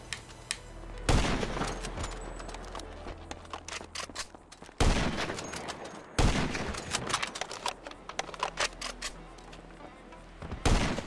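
Bursts of video game gunfire crack out repeatedly in several clusters, loud automatic volleys separated by quieter pauses with scattered single shots.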